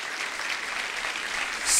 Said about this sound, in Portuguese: Vamos aplaudir nosso Deus, vamos